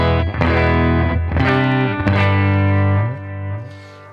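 Electric guitar through a Bugera V22 Infinium tube amp turned up to break up, three loud distorted strummed chords ringing out with sustain, fading toward the end.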